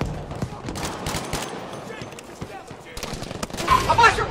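Thompson M1928A1 submachine gun fire in the Battlefield V video game, bursts of shots crackling through a busy battlefield mix, fairly close and loud, with a voice speaking over the action.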